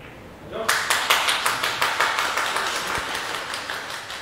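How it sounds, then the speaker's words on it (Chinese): Spectators at a Chinese 9-ball pool match give encouraging applause, a moderate run of rhythmic clapping starting abruptly and continuing steadily, with a commentator talking over it. "现场观众也是给李岩一些这个鼓励的掌声啊"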